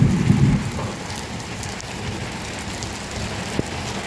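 Rain pattering steadily on a house roof, a constant close wash of drops with a low rumble early on and one sharp knock near the end.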